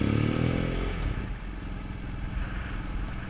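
Motorcycle coasting down a hill with the clutch pulled in and no throttle, a loud low engine rumble at first that settles into a steady idle drone with wind and road noise.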